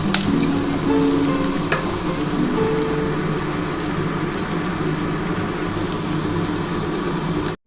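Onions for a chicken recipe fry in a pan with a dense, steady sizzle close up, broken by a few faint clicks and stirring sounds, with no talk.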